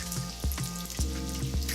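Scrambled eggs sizzling in leftover bacon fat in a pan, a soft, steady crackle with small pops and a few louder scraping knocks from stirring.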